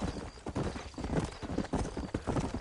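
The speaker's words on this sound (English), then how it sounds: "You ain't gonna find sturdier horses than these in all of New Ulster." Horse hooves clip-clop steadily on the ground in Red Dead Redemption, several horses near the town of New Ulster, a brisk, close, uneven rhythm of hollow knocks with no talk over it.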